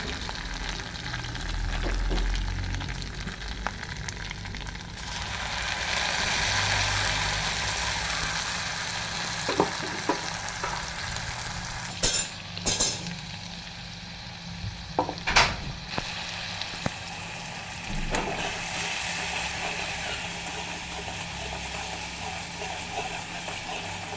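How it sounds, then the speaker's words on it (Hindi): Tripura-style snail curry frying with masala in a pan, a steady close sizzle running throughout, with scattered sharper scrapes and clinks of stirring, and no voices. "अच्छी तरह से पका कर इसे अच्छी तरह से फ्राई करके मैं यहाँ पर मेरा पेस्ट किया हुआ मसाला डालने वाली हूँ"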